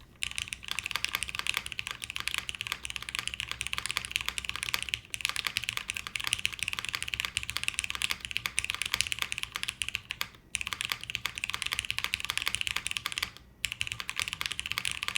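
Rapid, continuous clacking of a top-mount plateless mechanical keyboard being typed on up close, with a couple of brief pauses between bursts.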